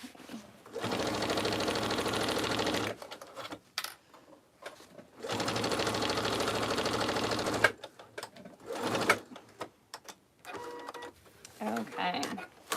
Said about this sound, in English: So I've got my side seams all sewn.